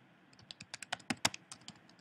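Numbers typed on a computer keyboard, a quick irregular run of about a dozen close, crisp key clicks over two seconds, with no speech.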